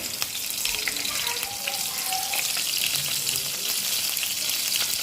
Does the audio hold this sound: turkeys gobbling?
no